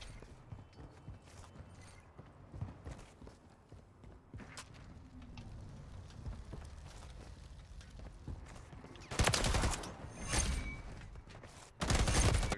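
Gunfire in a Modern Warfare 3 first-person shooter match, with a loud burst of automatic fire late on and another at the very end after quieter game ambience and clatter.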